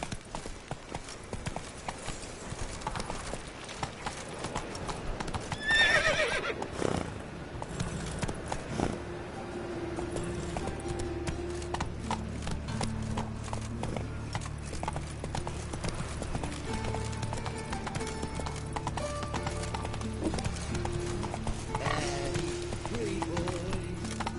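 Horse galloping in The Witcher 3 video game: rapid rhythmic hoofbeats throughout at a steady pace, with a brief burst of louder activity early on and a voice speaking over parts of it.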